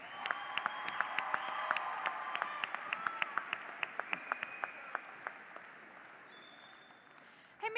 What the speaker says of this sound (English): Let's give one more round of applause for that incredible talent